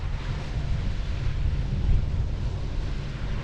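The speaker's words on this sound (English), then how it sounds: "Well, I'm feeling a bit of a breeze." A breeze builds over open water on a sailboat, steady wind rushing and buffeting across the microphone with a low rumble of sea underneath and no talking.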